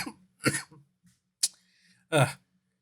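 A few short, harsh coughs with pauses between them, close up, mixed with brief throaty vocal noises.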